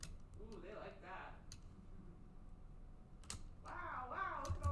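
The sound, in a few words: typing on a computer keyboard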